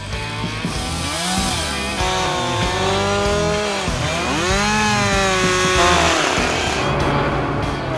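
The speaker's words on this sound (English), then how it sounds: "take a chainsaw and literally notch those angled cuts of the end of the log back several inches" A chainsaw roars steadily and loudly, its engine pitch dipping and rising as it notches angled cuts into the end of a log for a log house build, running continuously the whole time.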